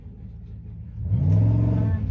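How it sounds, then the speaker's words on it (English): An off-road truck's engine rumbles low and then swells into a louder revving roar as it passes nearby outdoors. "there goes a freaking off-roader in their truck"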